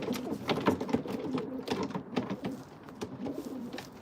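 Soft, low coos of a female racing pigeon repeat steadily beneath a cluttered background of rustling and faint mechanical noise.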